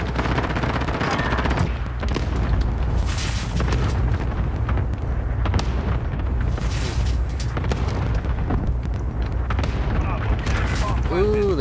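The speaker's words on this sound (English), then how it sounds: "Enemy cluster strike incoming." A cluster strike in a Modern Warfare Search and Destroy match sets off a run of heavy, rumbling blasts and rolling booms with scattered gunfire. Players talk over the explosions.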